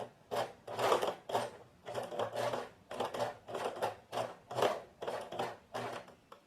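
A sewing machine stitches slowly along the edge of tailored trouser fabric, about two millimetres from the border. It runs in a series of short, even bursts separated by brief pauses, close and clear with no talking.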